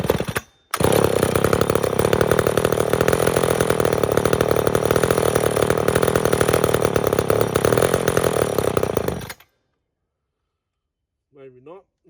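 A McCulloch Super 10-10 chainsaw engine, run for the first time in a long while, holds a loud, steady idle at close range for about nine seconds, then stops abruptly before a short burst of voice.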